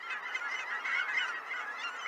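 A large flock of Canada geese honking at Ankeny Wildlife Refuge, a dense, continuous chorus of overlapping honks heard from a distance at low level, with no voices.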